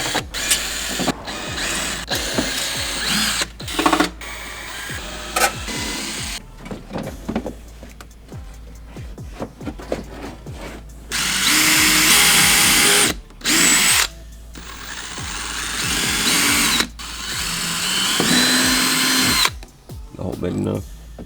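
A power drill drives screws in repeated short bursts while rock lights are mounted on a GM truck, loud and close with whirring spurts and pauses between them, and a person talking in the gaps.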